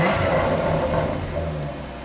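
A 2017 Jaguar F-Type SVR Coupe's exhaust in standard mode, heard up close at the tailpipes as a steady, fairly loud engine rumble that holds through the clip and eases slightly toward the end.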